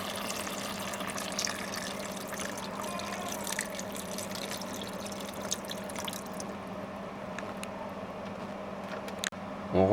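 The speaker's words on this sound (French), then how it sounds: "on ajoute de l'eau jusqu'à bien recouvrir la viande" Water from a tap trickles and splashes steadily into a pot of braised beef pieces. The sound is a soft, continuous pour with faint drips and a brief clatter at the end.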